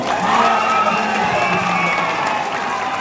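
A crowd at a political party workers' meeting claps and cheers, a dense continuous wash of applause with scattered shouts, loud and sustained.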